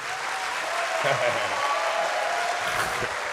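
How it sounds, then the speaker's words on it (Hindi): A crowd claps steadily throughout at a literature festival opening ceremony in Lahore, with a voice briefly audible beneath the applause. "ज़ोर से तालियां बजाओ"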